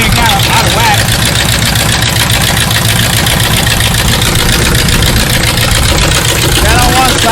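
An engine with its carburetor out of adjustment runs steadily at close range, a loud continuous rough drone with an uneven pulse, while people talk over it.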